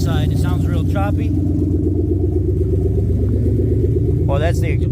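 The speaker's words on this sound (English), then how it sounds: "Header on this side, it sounds real choppy." Volkswagen Taos engine running choppy with the exhaust manifold open, a loud, uneven pulsing rumble heard up close while someone talks over it at the start and end.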